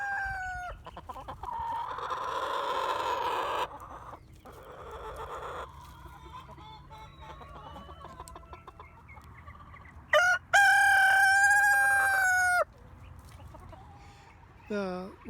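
Friendly heritage breed chickens gathered close by cluck and murmur in bursts, and a rooster crows loudly near the end over soft outdoor background.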